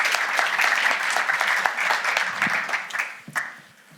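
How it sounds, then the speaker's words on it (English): An audience applauding a speaker at an AI trust and safety panel event, a dense sustained round of clapping that tapers off near the end. "Please give me a round of applause for Nitarshan."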